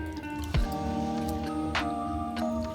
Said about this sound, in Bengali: ঘষে ঘষে ধুয়ে নিতে হবে ডালটাকে